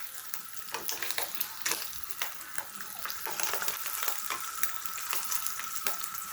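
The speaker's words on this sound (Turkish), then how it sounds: "Kızarsın biraz." Food frying in hot oil in a home kitchen while a salad is being made, a steady close sizzle with crackling pops throughout.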